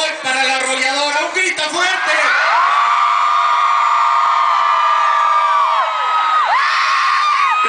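A large crowd at a city's 50th anniversary celebration in Ciudad Nezahualcóyotl shouts and whoops loudly in one sustained, swelling cheer.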